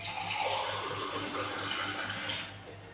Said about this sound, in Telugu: ఒక గ్లాస్ వాటర్ వేసుకోవాలి.